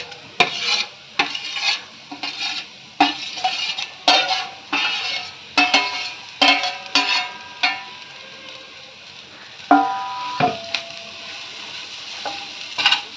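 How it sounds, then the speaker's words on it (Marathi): Guar beans are tossed in hot oil in a tempering pan, with a spatula scraping and clinking in repeated strokes over a steady soft sizzle. "आता ही तेलात परतलेली गवार आपण आता टाकूया फोडणीमध्ये"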